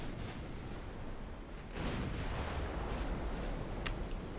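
Naval guns fire at a battlecruiser in a warship video game, heard as muffled, rumbling booms that swell into a continuous roar partway through, with a few sharp cracks near the end.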